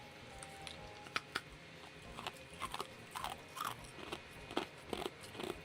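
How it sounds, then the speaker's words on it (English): Ice being bitten and chewed up close, giving a run of sharp, irregular crunches and crackles over a quiet room background, with no talking. "Can you eat the ice? Is it gonna give a crunch?"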